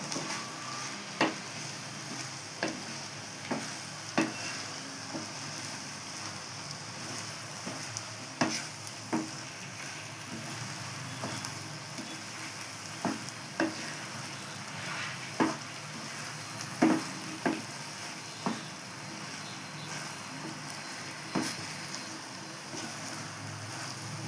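Roasted coconut being stirred into sweet aval (flattened rice) in a pan, a soft steady sizzle carrying through while a spoon scrapes and taps the pan in regular, sharp strokes every second or two.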